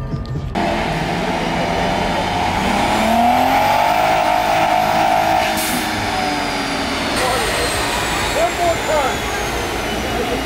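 A Gen 3 Viper roaring on a dyno at an import-versus-American car meet, a loud sustained engine run with rising and falling pitch, close by, over crowd noise.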